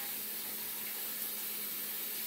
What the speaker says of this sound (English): I just simply wash it out with some soap, some water,